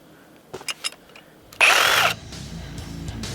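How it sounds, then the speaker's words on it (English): A Sawzall reciprocating saw starts cutting through the metal that holds boards together, giving one loud, dense burst of about half a second. A few sharp knocks come before it, and a lower mechanical hum follows. "I'm gonna use my Sawzall, and I'm gonna cut through all this metal holding these boards together"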